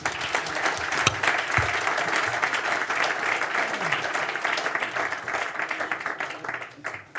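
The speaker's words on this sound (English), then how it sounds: "If we could give her a big round of applause" A conference audience at a cleantech summit in Europe claps for an executive vice president, a dense, sustained round of applause that holds steady for about seven seconds before thinning out at the end.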